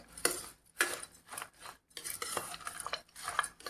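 Spicy puffed rice tossed with spice powder and oil in a bowl is being mixed, giving a rhythm of crisp rustling bursts and light spoon-on-bowl clinks, close and fairly quiet.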